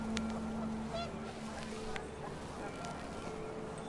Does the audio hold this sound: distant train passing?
no